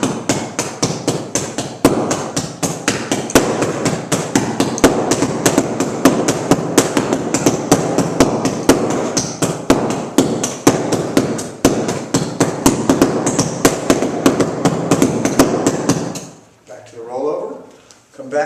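Rapid strikes on a bag with the fingertips during a rollover drill, a fast, even stream of sharp close slaps that runs without pause, then stops abruptly near the end.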